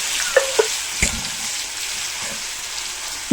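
Steady frying sizzle of a ginger, garlic and coconut spice paste in ghee for beetroot rice, a constant crackling hiss with a few sharp clinks of a utensil against the pan near the start.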